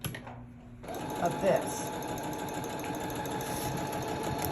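A sewing machine runs steadily while stitching a half-inch seam with a rolled hem foot fitted, its close, continuous mechanical whir starting after a brief pause, with a person talking over it.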